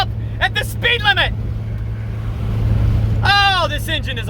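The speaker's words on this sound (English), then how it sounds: "Oh, this engine is a horrible, horrible thing." A vehicle engine strains up a long hill in a low, steady drone that swells briefly louder partway through, while a person talks over it.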